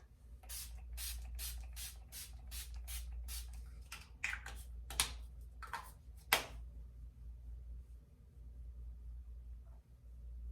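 Several quick misty bursts of Urban Decay All Nighter setting spray, about eight rapid pumps in a row followed by a few spaced sprays, close and fairly loud over a low steady hum.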